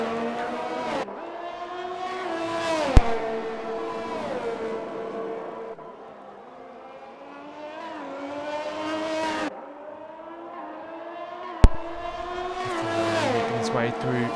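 Racing car engine on a flying lap in a racing video game, a steady high-pitched whine rising and falling through gear changes and corners, with two sharp clicks and a voice talking over much of it.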